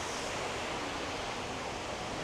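An indoor fountain in an airport terminal pours water in a steady, even rush of flowing water with no pauses, fairly faint and unbroken throughout.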